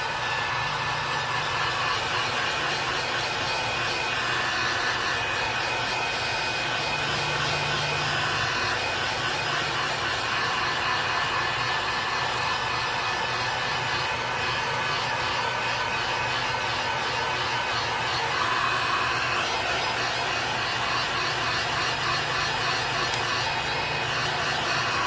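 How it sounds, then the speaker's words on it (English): A heat gun runs continuously while heat-setting paint on a carved red breasted sunfish, a steady close blowing hiss and whine with no talk. "And we're just gonna heat set him real quick."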